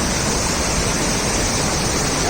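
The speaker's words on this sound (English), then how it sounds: "I'm getting close" A hidden waterfall in the forests of Arunachal Pradesh, heard close up as a loud, dense, unbroken roar of falling water with no other sounds rising above it.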